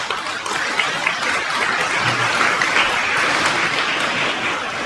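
Sustained applause from an audience at the inauguration of a children's swimming learning pool in Mauritius, dense and steady throughout at a constant level.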